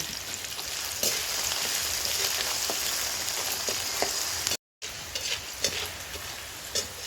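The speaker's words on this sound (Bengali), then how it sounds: "এই ছোলার ডালটা আমি ভেজে নেব।" Soaked, drained chana dal (split chickpeas) frying in hot oil for homemade chanachur gives a steady, close sizzle with scattered crackles and stirring scrapes, broken by a brief silent gap midway; nobody speaks.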